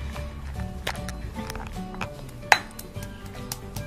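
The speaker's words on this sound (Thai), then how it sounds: "ก็เอาพริกใส่ครกแล้วก็ตำ" Chilies and bird's eye chilies pounded with a pestle in a mortar for a Thai seafood dipping sauce, giving a run of sharp, irregular clinks and knocks, with one louder strike standing out among quieter taps.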